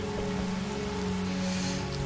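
Steady rain falls in the video game Lara Croft and the Temple of Osiris, a constant, fairly loud hiss of drops on surfaces with no talking.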